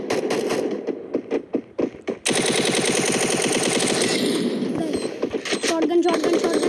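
Rapid bursts of gunfire in the video game Free Fire, quick cracking shots first in short spaced volleys, then a dense sustained rattle, loud and close with a voice talking over parts of it.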